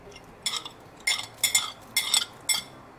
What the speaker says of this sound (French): un demi-citron confit que je vais couper en petits morceaux